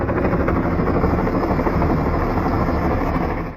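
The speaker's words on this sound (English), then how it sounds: "A helicopter appeared to be floating in the sky, but its blades weren't moving at all." A helicopter hovering overhead above a street on a clear day, heard as a steady, loud rotor-and-turbine roar that fills the whole stretch, with no voices, then cuts off abruptly at the end.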